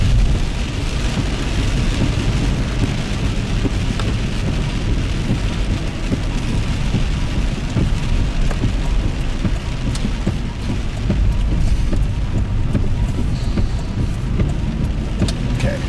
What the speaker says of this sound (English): Storm near Cary's getting its act together here.